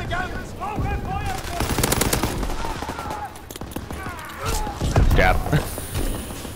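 Call of Duty: WWII multiplayer battle with rapid machine-gun bursts and single gunshots rattling loudly, mixed with footsteps and game effects while a player's voice talks over the action.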